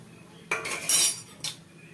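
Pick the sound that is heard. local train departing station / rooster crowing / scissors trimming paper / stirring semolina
stirring semolina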